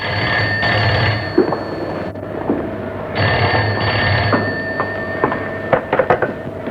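An old bell telephone rings in a classic Hindi film scene, giving two loud, sustained bursts of metallic ringing separated by a short gap, with a few knocks and clunks near the end and no speech.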